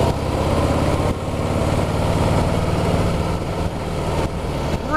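A 2016 Harley-Davidson Heritage motorcycle engine while riding at about 50 mph through bends, a loud, continuous engine rumble mixed with wind noise, close and steady with slight dips, without talking.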